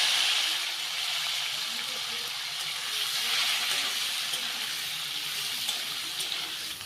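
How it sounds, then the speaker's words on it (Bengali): Pieces of kakrol (spiny gourd) fry in hot white oil in a wok, giving a steady loud sizzle and hiss with no break. "তেল গরম হয়ে আসলে আমরা কাঁকরোলগুলিকে ভেজে নেওয়ার জন্য কড়াইতে দিয়ে দেব।"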